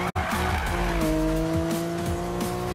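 A Toyota Supra drifting in the 2015 Need for Speed racing game: a loud, sustained tire squeal holds steady over a revving engine, close and continuous for a few seconds.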